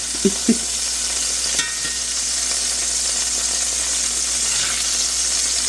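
Bacon and another ingredient frying together in a pan, a steady loud sizzle with a couple of brief knocks near the start as the food goes in, then continuous crackling hiss throughout.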